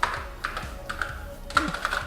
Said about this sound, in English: You just knew that sound of a keyboard.